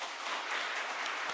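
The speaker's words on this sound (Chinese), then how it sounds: "那我们掌声也欢迎他们到我们当中。" Applause from a church congregation at a Sunday service, a dense, even wash of many hands clapping together, sustained at moderate loudness without voices.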